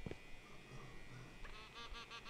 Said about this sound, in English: the bird's making its normal noise